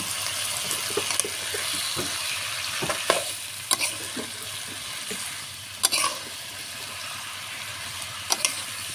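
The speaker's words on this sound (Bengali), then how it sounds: "আমি সুন্দর করে পুঁই শাকটা কষাই নিব" Malabar spinach (pui shak) sautéing in a pan with turmeric and chili powder, a steady soft sizzle broken by scattered scraping strokes of a spatula stirring the greens.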